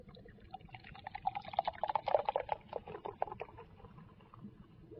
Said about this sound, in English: What you hear is a familiar fizz.